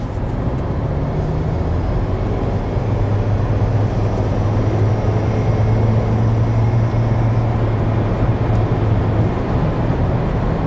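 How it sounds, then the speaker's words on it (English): Inside a moving Acura with a suspected turbo boost leak, a loud steady engine and road drone fills the cabin, with a faint sustained whooshing tone running through the middle; no talking. "So it almost sounds like there's a boost leak somewhere."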